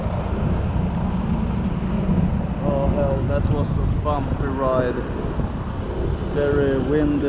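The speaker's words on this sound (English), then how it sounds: "very windy and small propeller plane" Steady, loud droning roar of a small propeller plane on a bumpy, windy flight from Vilnius to Berlin, with wind buffeting and faint voices underneath.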